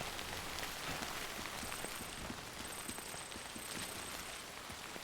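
Timefall rain in the video game Death Stranding falls as a steady, even patter across a surface, with occasional faint thuds underneath and no talk.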